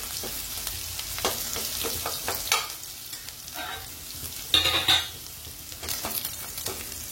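Garlic sizzles in hot oil while a spoon stirs it around the pan for a spicy brinjal curry, steady frying hiss broken by repeated scraping strokes, close and fairly loud.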